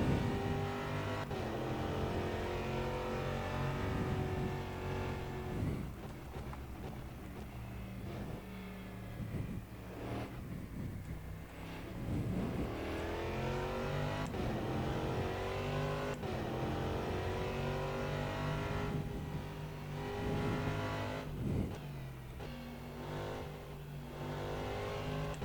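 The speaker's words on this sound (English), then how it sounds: "I just can't get over how nice this car sounds" Race car engine in the rFactor 2 racing sim revving hard and continuously, loud and close, with rising and falling pitch through gear changes across the lap and no voices.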